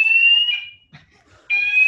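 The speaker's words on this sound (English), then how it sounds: "It is just a test alarm, so hopefully it will quiet out after 3 goes." During a test, a fire alarm blares a loud, high, steady electronic tone, cuts out briefly amid faint background noise, then sounds again.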